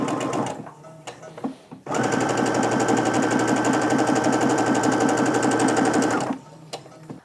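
A sewing machine chain piecing quilt fabric runs in one fast, steady burst of about four seconds, its rapid needle clatter close and loud, with quieter handling before and after.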